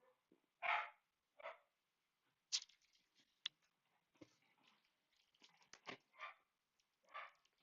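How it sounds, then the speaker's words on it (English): A dog barks repeatedly somewhere nearby, several separate sharp barks spaced irregularly over several seconds with quiet gaps between them. "Dog going crazy."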